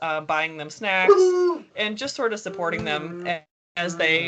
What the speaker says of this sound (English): I'm really sorry my dog is barking in the background.